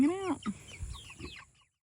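Broiler meat chickens clucking on a farm, a few close, distinct clucks and calls over roughly a second and a half before falling silent.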